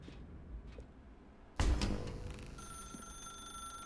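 A telephone rings in The Stanley Parable Deluxe video game, a sudden loud electronic ring bursting in after a quiet, dark stretch and sustaining its tone, with no talk over it.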